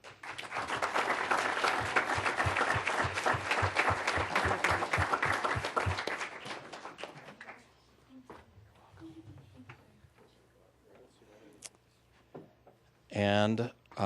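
Audience at a school board meeting breaks into a nice round of applause for Joy Chu, dense steady clapping for about six seconds before it fades out into quiet room noise and a brief burst of sound near the end.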